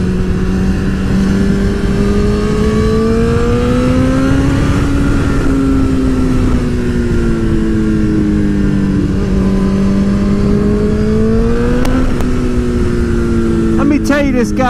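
Honda CBR sport motorcycle engine on a ride, a steady droning tone that rises and falls with throttle changes, with continuous wind rush throughout.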